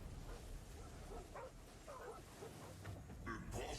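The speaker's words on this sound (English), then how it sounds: "Is it the tigers or the wolves that are barking?" Wolves in the video game Soulstone Survivors give a few faint, scattered barks and yips in a steady bed of game noise, with louder effects near the end.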